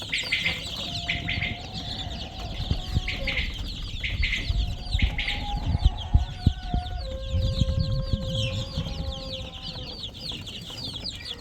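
Many young Adler silver chicks peep and chirp continuously in a busy overlapping chorus, close by, with occasional rustling and low thumps beneath.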